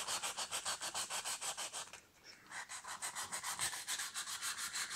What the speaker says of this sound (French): On va poncer sur la partie la plus bombée pour atténuer